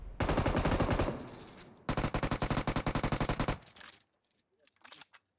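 M249 machine gun firing in a mobile video game: two long, loud bursts of rapid automatic shots, then a short pause and a few faint scattered reports.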